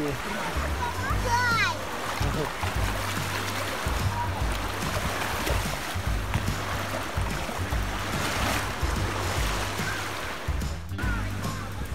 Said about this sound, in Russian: О, видишь, какие волны? О, волны большие.